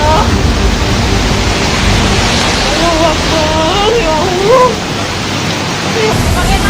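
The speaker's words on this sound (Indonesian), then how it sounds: "hanya terdengar suara air mengalir deras" Rushing floodwater pours in a loud, continuous roar that fills the whole stretch, with faint shouting voices rising briefly in the middle.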